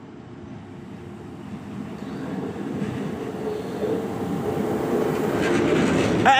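A Regio regional train arrives at a platform in Goleniów with a deep rolling rumble that grows steadily louder, with faint rhythmic clatter and no voices.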